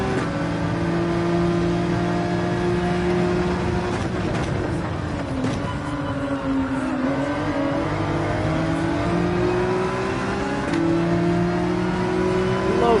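Race car engine in Gran Turismo 7 at the Red Bull Ring, droning steadily with rising and falling revs as gears shift during a lap on medium tyres, loud and continuous with no talk.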